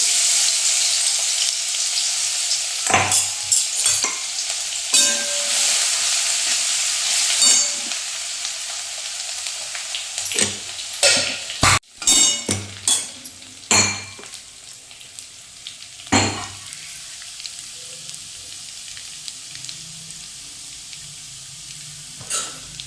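Cumin, mustard seeds and tomato fry in a pan with a loud, dense sizzle at first, broken by scraping stirs and clanks, then dying back to a softer crackle with sporadic stirring knocks.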